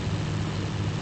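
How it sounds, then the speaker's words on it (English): Big bomber aircraft passing overhead in a Battlefield video game, a continuous heavy low engine rumble and propeller drone, steady and loud with no talk. "Now, this big bomber up here, pretty sure that's theirs."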